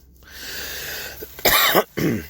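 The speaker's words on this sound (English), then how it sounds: "that's why I'm coughing so much today" Two harsh, close coughs break out after a low rumbling throat sound, the second following quickly after the first.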